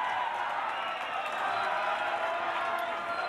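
A crowd at an Australian federal election night event cheers and claps in a continuous broad roar, loud and sustained throughout.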